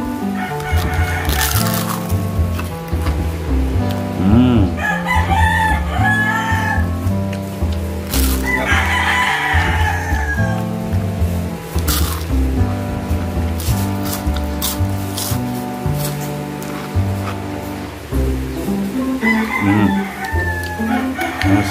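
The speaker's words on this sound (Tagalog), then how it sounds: "Nakisabay ang mga manok pagka nagbablog." Roosters crow repeatedly over a busy background of clucking hens and other farmyard noise, with several loud calls rising above the flock.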